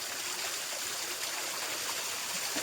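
Cold water streams and splashes steadily down at a lake between two hills, a continuous close-up rushing hiss with no pauses.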